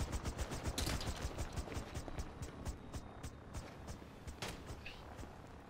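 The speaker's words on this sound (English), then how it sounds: "Andrew, you're still being sniped. Somebody's sniping. They're sniping." Sniper fire rings out in Grand Theft Auto as a string of sharp cracks over a busy, noisy game mix. Faint voices can be heard in the background.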